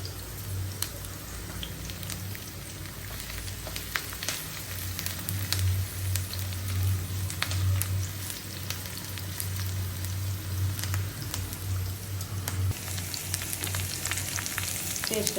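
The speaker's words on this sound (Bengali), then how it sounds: "পেঁয়াজটা ভাজা হয়ে গেছে" Onion frying in a pan, a steady crackling sizzle that goes on throughout, with occasional stirring scrapes and faint background noise, no talking.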